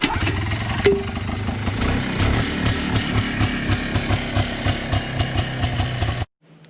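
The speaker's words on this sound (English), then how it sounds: "So the four-wheeler did start up and it's running pretty fair" A Polaris ATV with a dead battery is pull-started and its engine catches, running steadily at a rough, chugging idle for several seconds before cutting off abruptly near the end.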